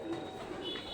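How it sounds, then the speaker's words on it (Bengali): Red koka pigeons cooing, a faint low murmuring coo held under a quiet background hum for a brief moment. "লাল এবং কালো কোকা কবুতর"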